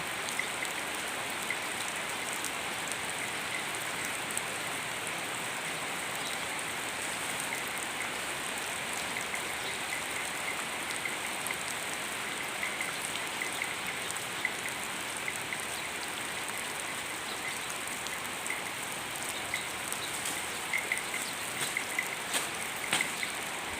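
Steady rain falls continuously, a dense even patter of drops on surfaces with occasional closer drips, no voices.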